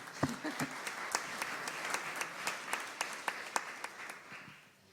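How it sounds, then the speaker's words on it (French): An audience at a French panel discussion on building conversion and public policy applauds, a fairly faint, loose scatter of distinct claps that thins out toward the end. "On peut l'applaudir, ouais."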